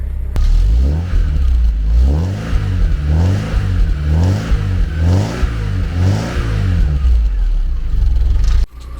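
A Porsche 944 engine runs loudly up close with a rough, pulsing idle and repeated rising revs, a metallic rattle clattering underneath throughout before it cuts off near the end.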